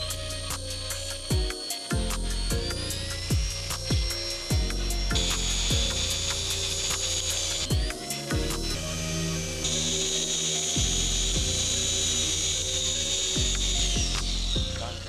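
Rupes Big Foot LHR 15 polisher running, a close mechanical buzz with a rattling, ratchet-like texture, repeatedly stopping and restarting with changes in pitch, with no speech.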